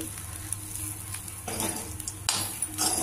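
A spoon stirs bitter gourd fry with homemade poppy seed powder in a pan, giving a steady sizzle with scraping and stirring strokes that grow busier partway through, plus a few metallic clinks near the end.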